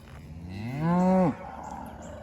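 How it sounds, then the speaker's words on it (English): A single cow lets out one deep, drawn-out moo, rising and then ending abruptly. It is close and loud over quiet outdoor background. "I just love cattle."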